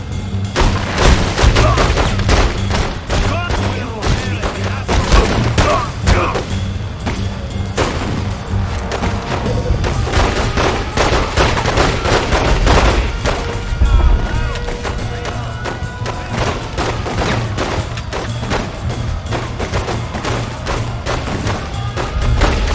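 Gunfire during a shootout in the video game The Godfather II: dense, rapid volleys of shots and booming thuds with music underneath, loud and continuous throughout.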